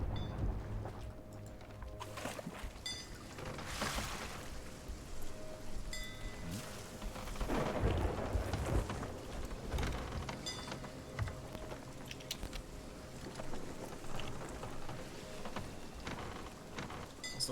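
Stormy weather on the sea in the Sea of Thieves pirate video game, a steady wash of heavy rain and rough water with low rumbling swells throughout, dense and continuous, with no clear voices.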